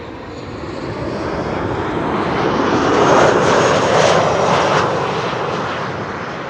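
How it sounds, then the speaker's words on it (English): A Boeing 737-800 arriving at Amsterdam Schiphol from Bucharest passes with a loud, broad jet roar that builds to a peak midway, then gradually fades, with no talk. "This is Tandem Flight 361 arriving from Bucharest, 737-800."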